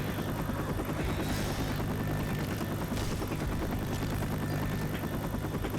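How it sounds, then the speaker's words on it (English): A helicopter's rotor thrum and engine roar hold loud and constant as the chopper comes in to land in the Left 4 Dead 2 No Mercy campaign, a dense, unbroken wash of game noise. "the chopper will basically land right here"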